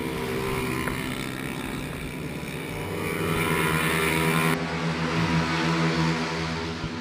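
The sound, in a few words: Mini GP 110 racing motorbikes climbing the circuit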